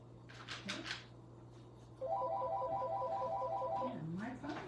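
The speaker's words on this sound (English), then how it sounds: "My phone is ringing." Mobile phone ringtone rings for about two seconds as a repeating electronic warble, moderately loud, amid quiet indoor sounds with a person speaking before and after.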